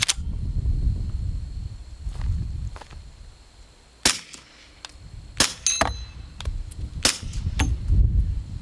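A Glock pistol firing 158 grain rounds with a green recoil spring installed cracks out several sharp, spaced shots, each with a ringing metallic tail, over quieter background noise at an outdoor range.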